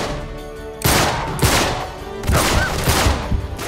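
Gunfire in the video game Uncharted 3: Drake's Deception as enemies are shot. Two or three loud bursts of shots stand out over the constant game background, and no voice is heard.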